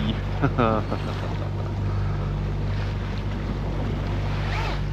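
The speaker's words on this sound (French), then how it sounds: "Donc là on est au moteur, génois et grande voile ouvert en grand." A sailboat motors at sea with genoa and mainsail fully out, a steady low engine drone under wind and water noise, with a brief voice near the start.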